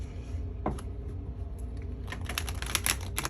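Quick papery riffling and soft slaps of a tarot card deck being shuffled close up, with bursts of crisp clicks toward the end.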